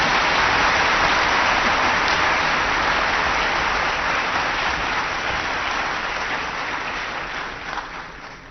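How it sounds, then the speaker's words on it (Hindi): An audience applauding at an award ceremony, a dense, loud wash of clapping from many hands that holds steady and slowly fades toward the end. "थोड़ा ताली तो बजा"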